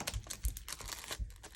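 Adhesive tape crinkles and tears while being fixed onto a handmade gift bow, a run of close, quiet crackling bursts with short pauses between them.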